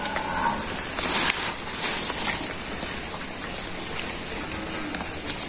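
Steady village rain falls on surfaces, a dense hiss of drops with occasional louder splashes close by, continuing without pause.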